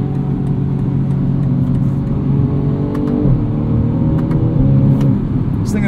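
A 2020 BMW M235i xDrive Gran Coupe engine pulls hard and loud from inside the cabin, revs rising steadily, then briefly dropping as the 8-speed automatic gearbox snaps through a quick upshift.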